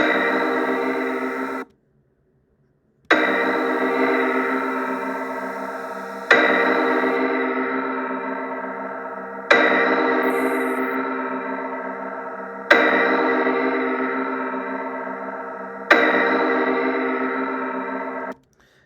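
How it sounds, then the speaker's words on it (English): Grainy, bit-crushed music plays in six repeated phrases, each starting loud and fading, with short gaps between them and one longer silence after the first phrase. "Let's try it potentially a bit crusher. It's quite grainy, the sound, isn't it?"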